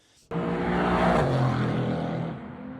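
Mercedes-AMG GT4 race car on a circuit, its engine roaring loud and steady as it accelerates past, a dense sustained drone that holds strong and slowly eases off toward the end.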